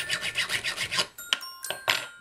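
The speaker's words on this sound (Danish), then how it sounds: "Så kan vi save i det." A plastic Obitsu doll part being sawed by hand: a run of about eight rhythmic rasping strokes, then a few sharper scraping clicks, close and fairly quiet.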